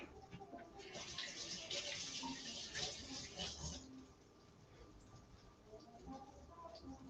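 Large black grapes are rinsed under a running kitchen tap, a soft spattering stream for about four seconds that then fades to quieter trickling and handling.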